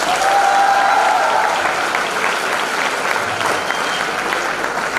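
Audience at a live stand-up comedy show in an institute hall breaks into loud, sustained applause, a thick continuous wash of clapping that stays strong throughout with faint voices mixed in.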